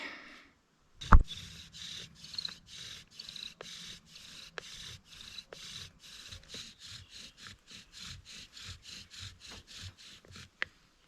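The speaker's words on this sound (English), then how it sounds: "If I grab my bow drill, could I get an ember?" Rhythmic back-and-forth rubbing of wood on wood from a bow drill making an ember, steady quick strokes like sawing, close up, with a sharp knock at the start and near the end.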